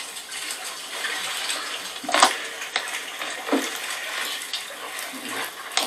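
Rainwater pours from a badly placed gutter and runs into the yard, making a steady, close splashing rush with a few louder surges and no voices.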